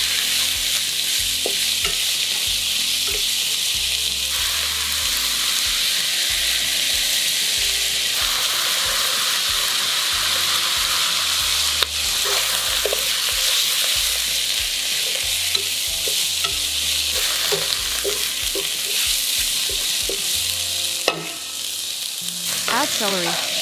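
Shiitake and shimeji mushrooms stir-frying with sauce in a pan over medium-high heat: a steady, close, loud sizzle with a spatula scraping and clicking in irregular bursts, with no voices.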